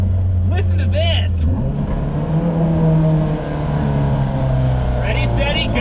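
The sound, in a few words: K20a-swapped Toyota MR2 Spyder engine revving through VTEC crossover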